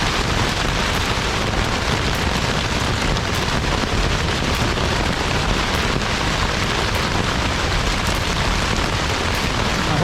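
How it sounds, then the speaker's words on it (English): Hail hammers a camping tent during a violent storm at a lake, a dense, continuous loud roar of impacts with no pauses and no talk. "Now it's hail."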